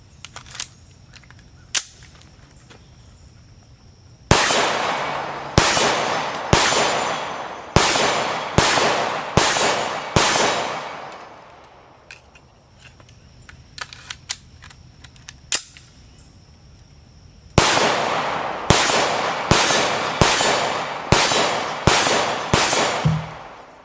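Sharp shots from a Remington R51 Gen 2 pistol in quick bursts, each followed by a bright metallic ring from a steel plate 27 yards downrange; pauses of quiet between strings of fire.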